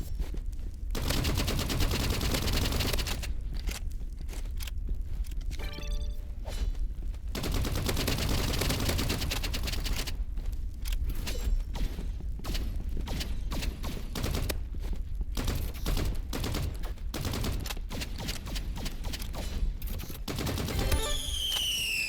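Assault rifle fire in the Roblox game Rivals rattles in long continuous bursts, loud and dense, with brief gaps between sustained volleys and no talking.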